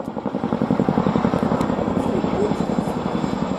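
A twin-rotor Chinook helicopter thunders close by during an air show display flight at RNAS Yeovilton, with a heavy, rhythmic rotor thump that stays loud and steady throughout.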